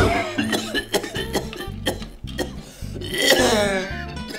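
Someone with a bad cough hacks repeatedly in a rapid run of harsh, loud bursts, close by, with a steady low tonal bed underneath.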